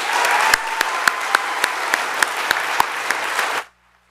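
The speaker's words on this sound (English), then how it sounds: "could we give one last round of applause for all the hard work being done by our families here at STEPMC" A graduation-ceremony audience gives a full round of applause, dense clapping with a few sharp individual claps standing out, running strongly and then stopping abruptly into silence.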